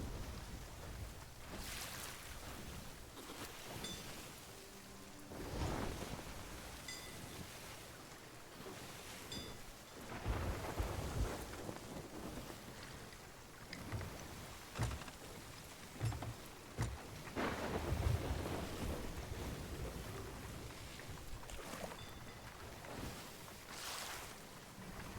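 A stormy sea in a sailing video game, with heavy wind and crashing waves rolling over a boat. Bursts of rain-like wash and gusts rise and fall steadily, loud and close, with no talking.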